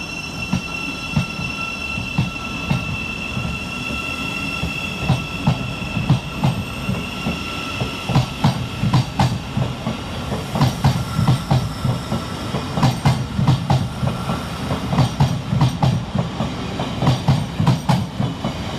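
A Class 700 Thameslink train pulls out of Farringdon station, a rumbling departure with rhythmic wheel clatter and high squeals building in loudness as it gathers pace, with no talk.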